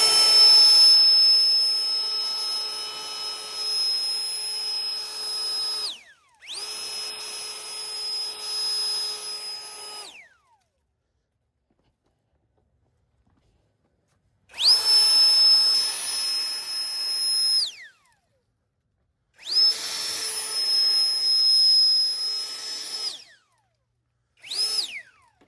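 Seese cordless jet leaf blower clearing leaves from a walkway, running in several loud bursts of high-pitched whirring whine with sharp starts and spin-downs, separated by silent pauses.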